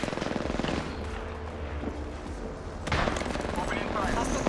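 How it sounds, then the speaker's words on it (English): Sustained automatic weapon fire rattles in a shooter video game, a steady rapid stream of shots with a sharper burst near the end, under occasional talk. "Opening fire."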